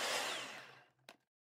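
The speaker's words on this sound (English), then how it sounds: "Blend the dry ingredients together until evenly incorporated, making sure not to overblend the ingredients" A food processor pulses almond flour and dry macaron ingredients. One loud whirring burst winds down over about a second, then a short click is followed by silence.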